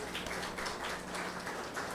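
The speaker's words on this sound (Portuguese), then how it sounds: "Peço uma salva de palmas." An audience claps for a guest speaker, a steady wash of applause from many hands throughout, with no voices over it.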